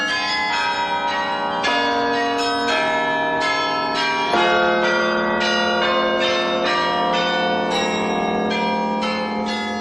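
A large carillon of 92 bells in a Portuguese palace rings out a loud, continuous melodic peal, overlapping struck tones sounding one after another without pause and no voices.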